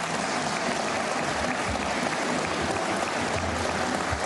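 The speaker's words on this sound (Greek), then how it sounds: "Μπράβο, χειροκροτήστε." A studio audience at a Greek television talk show applauds in a dense, steady wash of clapping that holds at an even level throughout.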